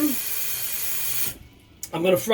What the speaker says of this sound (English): I'm gonna just rinse it out with water.